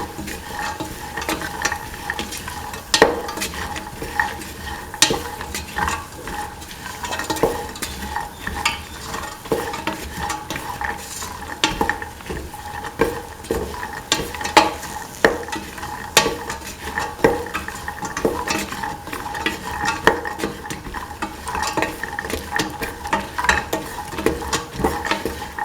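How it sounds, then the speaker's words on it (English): A spoon stirs chickpeas into an okra coconut milk stew in a pan, producing steady scraping and soft clinks above a low, continuous sizzle, close and moderately loud throughout with no voices. "Mix in the chickpea with the rest of the ingredients."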